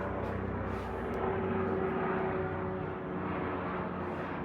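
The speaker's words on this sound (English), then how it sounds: "There goes another one of our helicopters overhead." A helicopter flying overhead in the Phoenix area, a steady, droning engine roar with a low rotor-like pulse, filling the air without pause and no voices.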